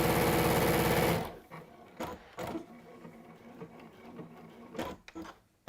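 A sewing machine runs loudly and close for about a second of rapid stitching, then stops, leaving soft handling knocks and fabric rustles.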